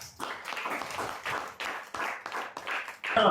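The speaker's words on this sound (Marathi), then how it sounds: "टाळ्या" An audience clapping along in rhythm at a devotional song performance, a fairly close burst of hand claps in quick regular beats across the whole stretch.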